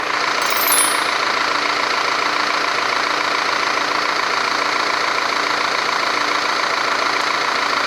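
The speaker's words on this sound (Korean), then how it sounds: "아우디 A5 차량의 엔진 소리까지 한번 들어봤는데요" An Audi A5 engine idles close by with the hood open, a steady, even mechanical hum and light ticking, and no voices.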